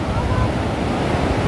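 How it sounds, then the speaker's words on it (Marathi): Strong sea waves surge in at the point where a river meets the sea at Devbagh on the Konkan coast, making a loud, unbroken roar of churning surf. "बघा इथनं एवढी जोरात येणारी ती लाट"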